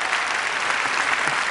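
Sustained applause from an audience at an art talk, an even, moderately loud patter of many hands clapping with no voices over it.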